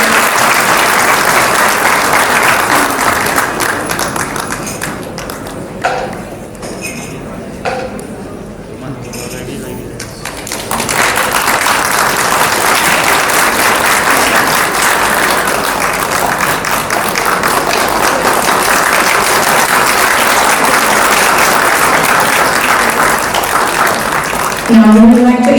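An audience at an airline's tenth anniversary celebration applauds in a long, loud, sustained round of clapping that dips briefly midway before swelling again, filling the hall for the whole stretch.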